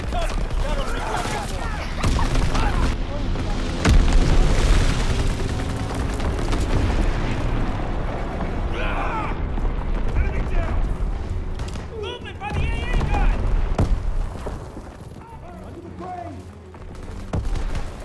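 Artillery bombardment in the Call of Duty: WWII multiplayer game, with heavy booms and bursts of gunfire rumbling loudly throughout, mixed with in-game radio voices and battlefield chatter.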